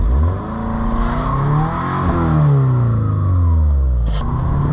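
A car with a welded differential driving in first gear, its engine humming and revving steadily with rising and falling pitch, loud and close throughout.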